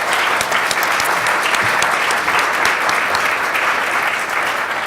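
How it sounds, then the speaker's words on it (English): Sustained, loud applause from an audience thanking a panel at a policy forum on middle-skills jobs, dense clapping filling the whole stretch without a break or voices. "join me in giving a big round of applause for our panelists"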